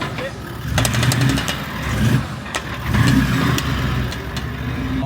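A turbocharged TD42 diesel in a Land Cruiser rumbles and climbs in revs as the clutch is dropped, a loud, close, throbbing engine note with surging pulses and people talking over it.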